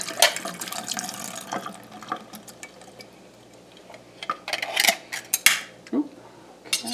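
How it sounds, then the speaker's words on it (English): Tap water runs as long white vegetables are rinsed, with soft splashing, faint clinks of kitchen utensils and a few sharper knocks near the end, close and without speech. "Give them a good rinse."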